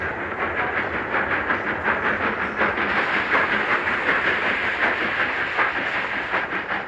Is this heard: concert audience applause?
no